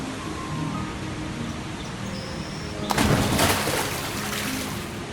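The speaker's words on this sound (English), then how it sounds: "My, that is a huge waterfall. It's indeed beautiful, but the noise this close is slightly unpleasant." A huge waterfall in the video game Into A Dream roars as a steady, dense wash of rushing water, swelling louder partway through and staying broad and continuous throughout.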